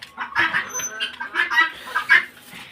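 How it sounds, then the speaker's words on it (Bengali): Several chickens cluck and squawk close by in short, irregular bursts, a busy flock calling over one another with no talk. "এগুলো সব আমার আগের মুরগি।"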